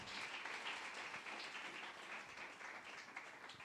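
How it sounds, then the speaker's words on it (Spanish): A church congregation applauds in a steady, dense wash of clapping that carries on evenly throughout, with no voices over it. "Dale ese fuerte aplauso a Rey de Reyes y Señor de Señores"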